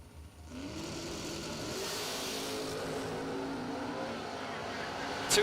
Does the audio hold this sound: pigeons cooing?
no